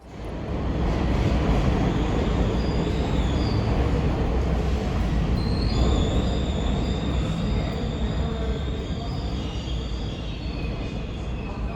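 A subway train rumbles loudly and steadily, with high metallic squeals from the wheels drifting over the roar.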